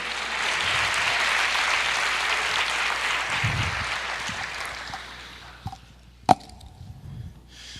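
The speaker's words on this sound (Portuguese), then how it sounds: "Aplauda o Senhor." Church congregation applauding after a sermon, dense clapping that swells then fades, followed by a few isolated sharp claps and thumps as it dies out.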